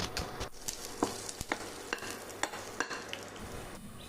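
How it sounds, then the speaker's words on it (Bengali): Dry red chillies split down the middle and whole cumin seeds frying in a pan while being stirred, with a soft sizzle under repeated scraping and tapping strokes of the spoon, close and fairly quiet. "দুটো শুকনো লঙ্কা মাঝখান থেকে চেরা করে আর হাফ টিস্পুন মতো গোটা জিরে দিয়ে অল্প নেড়ে চেড়ে ভেজে তুলে রাখবো"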